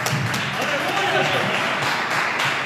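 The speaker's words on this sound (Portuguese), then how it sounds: "Vamos receber o servo com palmas." A church congregation applauds together in a sustained, dense wash of clapping that holds steady throughout, with voices mixed in.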